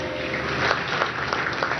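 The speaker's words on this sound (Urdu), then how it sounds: "کچھ ذرا تالیاں ہو جائیں تو بہت اچھا ہے." Audience applause at a Pakistani event introducing Prime Minister Imran Khan's speech, a short burst of dense, steady clapping from a crowd at moderate level.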